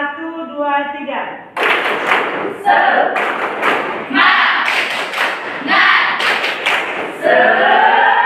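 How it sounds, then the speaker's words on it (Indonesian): A group at an Indonesian classroom ice-breaking session does a rhythmic spirit clap, loud, close bursts of clapping in repeated patterned groups, with a voice speaking just before the claps begin. "tepuk semangat 1, 2, 3."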